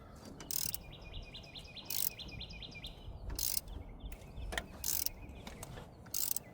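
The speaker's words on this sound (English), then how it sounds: "we're just going to take our 1/2-inch ratchet" A half-inch ratchet clicks in short bursts of rapid ticks while turning a Porsche engine by hand to find the timing marks, close and fairly quiet, with pauses between strokes and faint bird chirps in the background.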